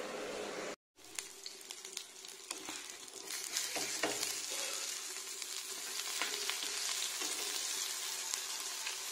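Vegetables sauté in a hot pan in a home kitchen, a steady dense sizzle with occasional soft stirring clicks, after a brief silent gap near the start.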